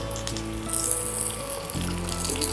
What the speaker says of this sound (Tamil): இதெல்லாம் சேர்த்து வதக்கிடலாம்